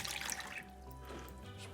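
Water poured into a bowl for homemade pizza dough, a soft steady trickle that fades after the first half second into a quiet liquid murmur.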